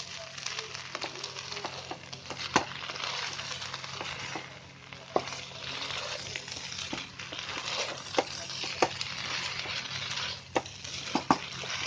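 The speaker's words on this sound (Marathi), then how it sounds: "आता मी गॅस फास्ट करते आणि हा सगळा भात आहे ना मिक्स करते" Egg fried rice tossed and stirred in a pan over high gas, a steady close sizzle of frying with scraping stir strokes and occasional sharp clinks of the spatula against the pan, no talking.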